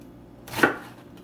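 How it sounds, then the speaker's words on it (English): A single knife stroke roughly chopping cabbage on a cutting board, one quick crunchy cut heard alone in a quiet kitchen. "roughly chopping"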